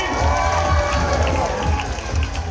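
A hypnosis show audience on a cruise ship roars and cheers loudly, a dense wash of excited shouting and noise filling the whole moment.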